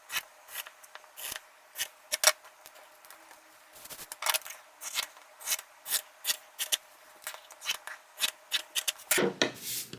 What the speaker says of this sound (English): I'm just gonna cut my piece of fabric a bit smaller than the actual piece of